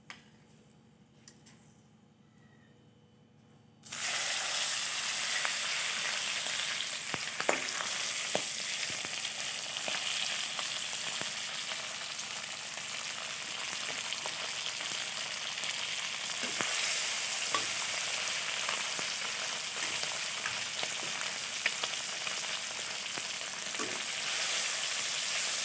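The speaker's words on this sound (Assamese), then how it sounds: "অলপ দেৰি এনেকৈ ফ্ৰাই কৰি ৰঙা হ'ব লাগিব অলপ টাইট" Magur catfish sizzles in hot oil in a pan with salt, turmeric, spices and coriander powder, starting with a sudden loud hiss after a quiet moment and then frying steadily with small crackles and pops.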